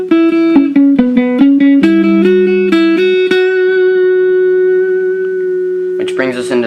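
An electric guitar picks out a riff, a quick run of clean single notes settling into a long ringing sustained note, close and alone, with a voice starting at the end.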